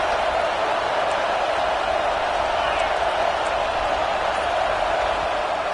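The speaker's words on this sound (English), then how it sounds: "The noise level is relentless here on second down." Stadium crowd noise in a college football video game at a Washington versus Oregon matchup: a dense, relentless roar from a large crowd, loud and unbroken throughout.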